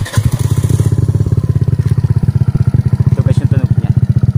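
A Suzuki Burgman 125 scooter fitted with an Akrapovic M1 muffler runs loud and close, its exhaust giving a rapid, steady pulsing throb with slight revving swells throughout.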